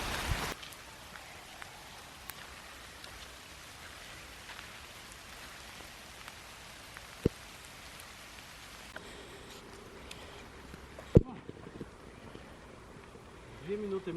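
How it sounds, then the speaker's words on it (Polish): Steady rain pattering outdoors, a fine even hiss with scattered sharp drips and taps, continuous and fairly close throughout. "mam wrażenie, że pada coraz bardziej"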